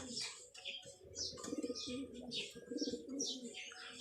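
A racing pigeon coos in low, rhythmic rounds close by, with other birds chirping brightly overhead and faint talk mixed in.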